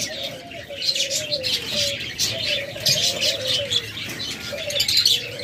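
Rainbow budgerigar pairs chirping in a cage, steady bright twittering and short warbles running throughout, with a repeated lower cooing-like call weaving through at close range.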